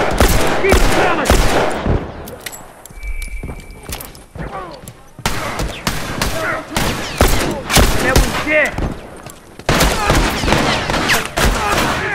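Turret gunfire in a video game, dense rapid shots rattling through most of the stretch, with a brief lull in the middle, mixed with other battle sounds.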